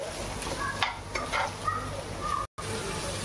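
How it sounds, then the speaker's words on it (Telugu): Onions added to half-fried carrots and stirred in a pan, giving a soft steady sizzle with several scraping stirs and light utensil knocks against the pan, close by with no talking. "ఇప్పుడు ఆనియన్స్ వేసేసుకున్నామండి. ఇప్పుడు బాగా మిక్స్ చేసుకుందామండి."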